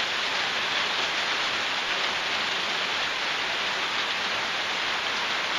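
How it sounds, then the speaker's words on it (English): Heavy rain drums on a tin roof over a back screened-in porch in Burns, Tennessee, a dense, even hiss of countless drops that stays loud and unbroken throughout, with no voices. "What a fantastic rain."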